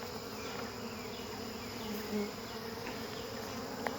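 Honey bees buzz in a dense, steady drone close by at the back of a newly installed hive, a faint continuous hum with a few louder passes near the microphone.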